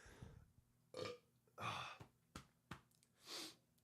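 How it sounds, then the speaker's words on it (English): A few burps and throaty gulps come in quick irregular bursts, close and fairly loud, separated by short quiet gaps. "that was a nasty burp, bro"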